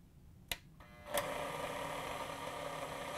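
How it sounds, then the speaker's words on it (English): A KitchenAid stand mixer switched on at low speed: a couple of clicks, then a steady, fairly quiet motor whir that runs evenly to the end. "we're going to very carefully turn it on and put our finger against the shaft of the mixer"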